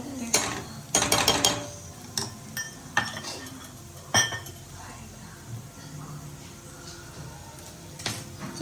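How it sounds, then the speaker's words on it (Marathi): A utensil stirs tomatoes frying in ghee in a pan, with sharp metallic clinks and scrapes bunched early and then spaced out, over a low sizzle. "परतून घेऊया टोमॅटोला जोपर्यंत तेल सुटत नाही तोपर्यंत छान आपल्याला हे परतवायचं आहे"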